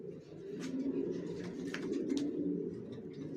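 Racing pigeons coo steadily inside a loft, a soft, continuous low burbling from several birds that carries through the whole short stretch with no voices.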